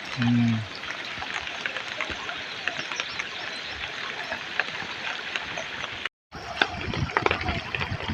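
Floodwater from a stream swollen by heavy rains in Mancherial and Adilabad rushes in a steady, dense roar that barely pauses once.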